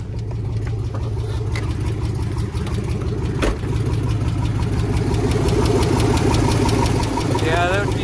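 A car engine idles with a lifter tick or piston slap on the passenger side, a steady rhythmic ticking and knocking over a mid-pitched engine drone, close and loud, with a brief sharp knock partway through.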